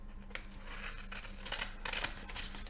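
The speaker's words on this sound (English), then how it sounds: "Try and cut as close to the middle as you can" Scissors cutting paper corners toward the middle for a pinwheel craft, a series of close, crisp snips in an uneven rhythm over a faint low hum, no talking.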